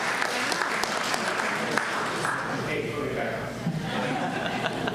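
Audience at an election candidates forum applauds, steady clapping mixed with some chuckling and murmured voices, gradually thinning toward the end.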